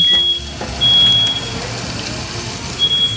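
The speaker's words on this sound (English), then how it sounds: "The alarm is going to sound because we've got to turn on this vent fan." A high-pitched smoke alarm beeps intermittently in a kitchen over a loud, steady vent-fan rumble, with brief chirps breaking through the noise.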